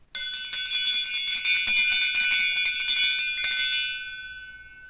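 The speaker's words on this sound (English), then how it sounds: "when you hear my bell ring again" A hypnotist's hand bell rings steadily and brightly for about four seconds of repeated strikes, then its tone lingers and fades into silence, with no voice over it.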